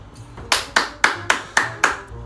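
A group of blonde women clap in unison, six slow, evenly spaced, loud rhythmic claps, close by, with a faint murmur in the background.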